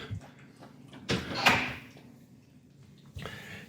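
A pantry door bumps against the stop on a homemade puppy gate, giving a single sharp knock with a brief rattle in a quiet room, then a softer second tap near the end.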